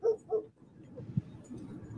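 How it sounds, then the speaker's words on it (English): A dog in a backyard gives two short yips or whimpers, followed by quieter low whining and rustling, faint and at a distance. "I think that's a dog that was in the backyard."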